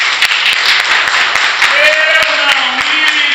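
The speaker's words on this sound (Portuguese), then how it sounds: "Você pode aplaudir Jesus por causa disso?" A church congregation at a couples' service applauds, a steady wash of many hands clapping with scattered sharper claps, while a voice speaks over it briefly.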